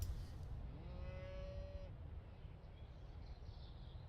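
A single cow moos in the RuneScape video game: one drawn-out, rising then steady call, fairly faint over a low background hum.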